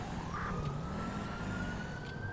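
Police vehicle siren during a high-risk prisoner transport, a faint, rising electronic tone heard in the distance over a steady road and engine rumble.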